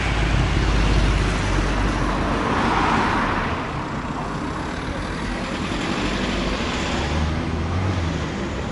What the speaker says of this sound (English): If you can hear me over the din of all the noise of traffic.